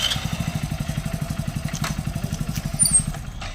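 A motorcycle engine runs close by with a steady, fast, chugging idle pulse that stays loud and continuous throughout.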